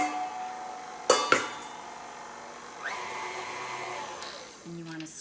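A kitchen mixer whirls chocolate cake batter in a brief run, its motor a steady mid-pitched hum, with a couple of sharp knocks near the start and the pitch shifting as it slows near the end.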